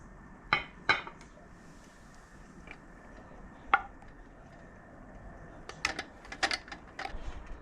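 Glass canning jars of freshly cooked tuna set down on a surface, several sharp separate clinks and knocks, a couple close together early and a cluster near the end, against a quiet background.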